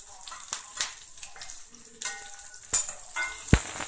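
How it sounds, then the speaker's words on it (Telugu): Onions and curry leaves frying in a pan for majjiga pulusu, crackling and sizzling up close, with stirring scrapes and a few sharp pops and clinks. "దీన్ని బాగా గోల్డెన్ బ్రౌన్ కలర్ వచ్చేంత వరకు ఫ్రై చేయండి"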